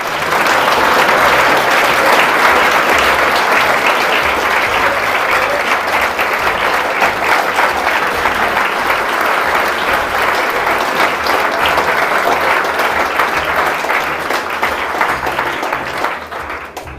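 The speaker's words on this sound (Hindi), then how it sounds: "सब लोग ताली बजाएंगे, खड़े हो जाएंगे और आदर्श को वेलकम कर रहे हैं" A packed audience at a motivational event for NEET aspirants stands and applauds to welcome a student, producing a long, loud, continuous roll of clapping that holds steady for well over fifteen seconds before tapering slightly at the very end.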